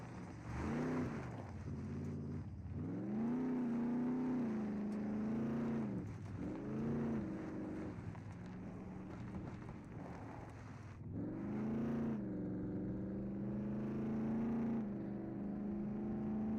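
A sidecar motorcycle in the video game SCUM runs with a loud, steady engine drone that swells and revs at intervals throughout, close and continuous with no talk.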